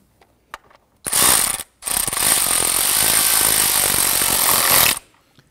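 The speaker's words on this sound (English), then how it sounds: "install our 10 millimeter bolt" A hand ratchet tightens a 10 mm ignition coil bolt on a 4.0L V6 Nissan Frontier, giving a short click and then a continuous close, fast clicking run with one brief pause.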